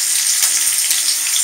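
Chopped onion hits a hot pan and fries with a loud, continuous sizzle, broken by a few soft knocks of stirring and no voices.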